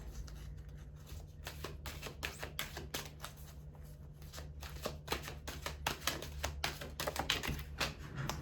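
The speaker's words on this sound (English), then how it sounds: "as I choose a card for Pisces" Tarot cards being shuffled by hand, a quick run of soft, close riffling taps and flicks repeating steadily over a low background hum.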